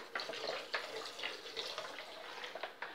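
Vinegar poured into a bowl of water for disinfecting green beans, a close, light splashing and trickling with small irregular bursts, no voices.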